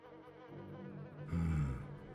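Sting bees buzz in the video game Oddworld: Stranger's Wrath, a droning insect whine that swells louder near the end of a short burst, heard alone without speech.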